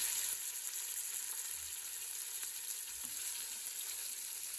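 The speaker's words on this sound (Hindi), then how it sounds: "5 मिनट हम इसे फ्राई करेंगे। तेल जब इस तरह गर्म हो जाए तो बस गोश्त चिपकने लग जाता है।" Beef pieces frying in hot oil in a pot, a steady close hiss and sizzle throughout with faint stirring, no voices.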